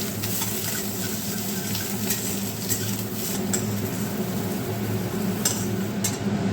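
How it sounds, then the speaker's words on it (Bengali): Cauliflower frying in a kadai of mustard oil, a steady continuous sizzle and hiss with faint stirring scrapes, close and even throughout, with no talking. "ফুলকপিটাকে দিতে ভুলে গেছিলাম এই জন্য পরে আবার ফুলকপিটাকেও ভেজে নিলাম"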